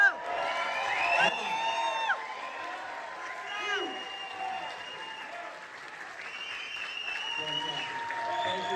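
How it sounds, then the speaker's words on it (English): A bodybuilding show audience applauds and cheers loudly and steadily, with whoops and shouted voices rising over the continuous clapping throughout. "The crowd, you can cheer them on now too."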